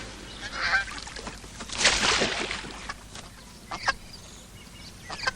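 A goose lets out a few raspy honks at moderate distance, with one louder, harsher call in the middle and quieter calls around it. No one speaks.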